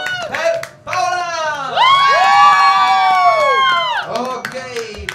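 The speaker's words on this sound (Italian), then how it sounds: "Voglio un grande applauso e anche un urlo per Paola." A crowd at a wedding-related event at the Convento di Lonato cheers and whoops with loud sustained shouting and some clapping, swelling in the middle and tailing off near the end.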